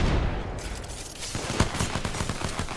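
Rapid bursts of gunfire from a competitive shooter video game rattle continuously, loud and close, during a tournament stream.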